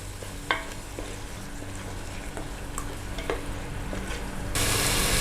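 Tomatoes fry in an onion-garlic masala for Punjabi kadhi pakoda, giving a soft, steady sizzle. A spoon clicks now and then while stirring, and the sizzle swells louder near the end.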